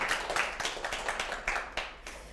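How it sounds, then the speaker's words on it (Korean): Audience applause for a Korean master pastry chef at the end of a televised lecture show, quiet and loose, with scattered individual claps rising and falling over a couple of seconds. "다시 한번 큰 박수 부탁드립니다."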